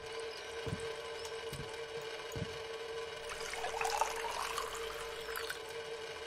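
Water is poured into a wok in the video game Cradle, a soft watery splashing that swells briefly mid-clip over a steady droning background hum.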